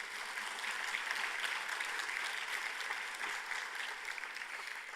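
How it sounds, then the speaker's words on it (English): Sustained audience applause at a partners' forum closing ceremony, a steady dense wash of many hands clapping at even volume for the full stretch, no voices standing out. "If we could give them a round of applause, please."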